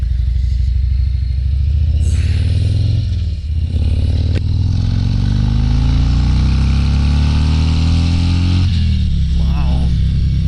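A 2022 Harley-Davidson Street Glide Special accelerates hard in second gear, its loud engine rising steadily in pitch through a long pull, with a brief dip near the start and wind roar throughout.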